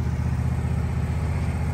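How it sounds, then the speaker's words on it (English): A small tractor engine drives a sawmill's main shaft through its rear PTO. It makes a steady, close, throbbing mechanical drone with an even rhythm and no talking. "We went from electric motor to the PTO on the back of the tractor."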